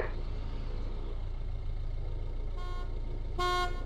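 Two vehicle horn honks in a video game with a road convoy, a short blast and then a louder, longer one, over a steady engine rumble.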